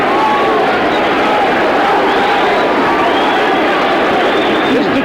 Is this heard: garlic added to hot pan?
no